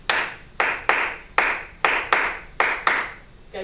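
Students in a music class clap a rhythm in unison, seven bright, close claps in an uneven pattern, some spaced wide and others bunched tightly together, with no voices over them.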